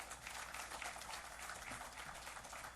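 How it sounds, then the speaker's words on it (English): An audience applauds to welcome the Minister at a CEOs panel discussion, a faint, continuous wash of many clapping hands heard from a distance, steady and unbroken throughout. "please, with a round of applause."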